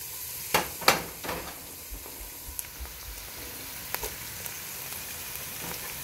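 Tofu frying in a pan for Ilokano pinakbet, a soft steady sizzle with a few louder spits and clatters near the start, then a low even crackle throughout.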